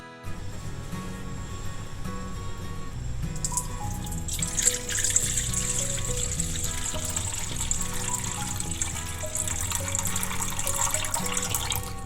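Water trickles and splashes in a sink as semolina (rava) is rinsed and drained for idli batter, a soft steady pour with a brighter gush partway through, faint and without talk.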